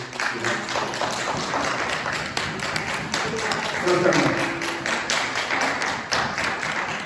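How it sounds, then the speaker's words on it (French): Audience applause at a gathering, a dense patter of many hands clapping continuously throughout, with a speaking voice audible over it. "je souhaite qu'on applaudisse pour la vie de mon frère Emmanuel"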